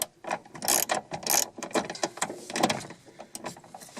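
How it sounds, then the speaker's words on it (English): A ratchet fitted with a 10mm socket turns the lower seat belt anchor bolt out of a car, producing rapid clustered clicks in uneven bursts, close and fairly loud, with no voices. "the lower bolt, that one there, comes out with the 10mm socket"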